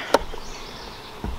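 A faint steady hum of honey bees buzzing around an open hive nearby, with a sharp click near the start and a low thump at the end.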